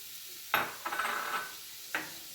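Butter is stirred around a cast iron pan on medium heat: a sharp scrape, then a longer sizzling swish of a utensil across the metal, then another brief scrape, all close and fairly quiet with no voices.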